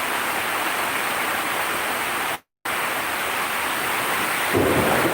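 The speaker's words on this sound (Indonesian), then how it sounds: "hujannya besar sekali" Heavy rain pours down during a thunderstorm, a loud, dense, continuous roar with rumbling thunder. The sound cuts out briefly near the middle, then resumes at full strength and swells slightly toward the end.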